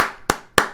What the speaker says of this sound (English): Digital claps that just go like,